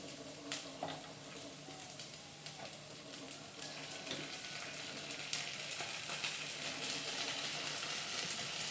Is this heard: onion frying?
yes